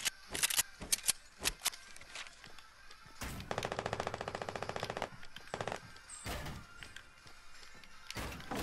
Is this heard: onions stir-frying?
no